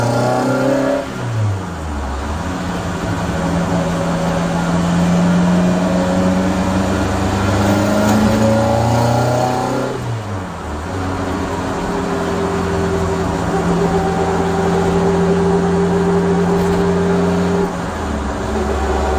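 A Harris-powered Mk2 Ford Escort cruising in fifth gear around 40 mph, its engine droning steadily with rising and falling pitch as the throttle shifts, loud and close from inside the car, with no talking.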